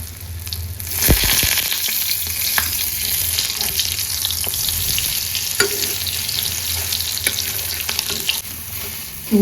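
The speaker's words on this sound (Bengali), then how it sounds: "ডিমগুলো রেডি করে নিয়েছি আর এই যে পাউরুটি বানিয়ে নেবো এগ টোস্ট" Eggs frying in a pan for egg toast, a steady broad sizzle with occasional stirring scrapes and clinks, close and loud throughout with no talking.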